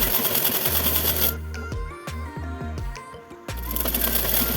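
A sewing machine stitches along the folded edge of a salwar belt, running in steady close bursts at the start and end with a quieter pause between them holding a few soft clicks and knocks.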